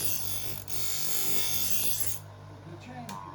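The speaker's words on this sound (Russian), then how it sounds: "Вот сейчас мы просто попробуем наточить нож." A knife blade is ground against the stone of a bench grinder with a harsh, steady rasping hiss over the motor's hum. The grinding breaks off briefly and then eases toward the end.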